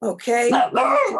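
A dog barks and yips several times in quick succession close by during an online commissioners meeting, with a person briefly speaking over it.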